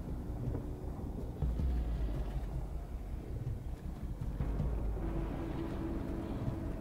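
A thunderstorm in Minecraft Story Mode rumbles as a low, rolling, windy roar that swells and ebbs throughout, with gusting noise filling the background.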